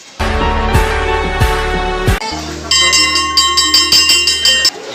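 A metal bell hung at a school rings out in several loud, resonant strikes, each leaving a long shimmering decay, followed by a quicker run of brighter repeated clangs.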